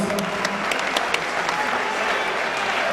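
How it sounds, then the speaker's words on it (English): Steady, dense applause from a crowd at a combat sports fight night after a three-round bout, continuous clapping at even volume throughout with no voices standing out. "A big round of applause, guys, for both these fighters"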